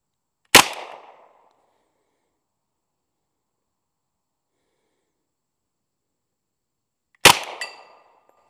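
Two single shots from an M1 Thompson submachine gun fired at targets, each a loud sharp crack with a short fading tail, spaced several seconds apart with silence between.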